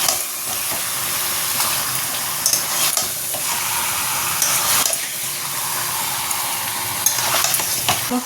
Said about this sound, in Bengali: এটাতে একটু কষতে সময় লাগবে কষিয়ে নিই